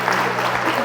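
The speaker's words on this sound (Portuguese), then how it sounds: "Quero uma salva de palmas para elas nesse momento." Audience claps for supporters at a talk about becoming a writer, a dense, even wash of applause from a room of people, brief and steady throughout.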